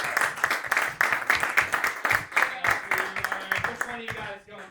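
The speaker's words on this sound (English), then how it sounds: "Start clapping right now for Lauren Cocroft." Applause from a comedy club audience at a roast battle show, brisk rippling clapping that rises and falls in pulses for several seconds before thinning out, with voices mixed in.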